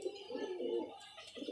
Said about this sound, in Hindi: ये कबूतर उस कबूतरी के साथ लगाने लगे हैं।